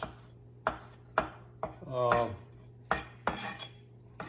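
A knife strikes a cutting board in a series of sharp, separate chops at an uneven pace as parsley is chopped, with a brief clink of a utensil in the middle.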